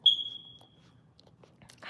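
One short, shrill electronic chirp from a smoke detector sounds at night in a home and fades quickly, followed by faint quiet room noise and a soft rustle at the end.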